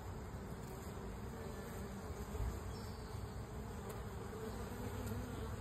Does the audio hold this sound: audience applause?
no